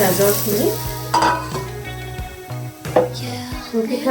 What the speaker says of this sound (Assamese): গাজৰখিনি দি এইখিনি মই ভালকৈ মিলাই ল'ম